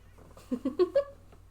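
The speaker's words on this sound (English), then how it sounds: "Anybody want to see my cat?" A cat makes a quick run of four short, rising mewing sounds, close and fairly quiet, in an otherwise still room.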